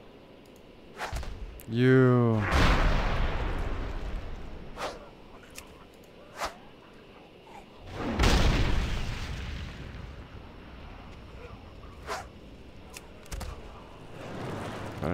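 Bomb explosion in World of Warcraft, a loud boom with a whooshing tail early on and a second rumbling blast midway, set among sharp clicks and a brief spoken word.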